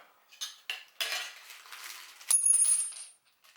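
Metal brackets, nuts and bolts from a Focus ST intercooler kit are handled, a few quick clinks and rattles followed by a short jingling clatter, close and faint, with no talk.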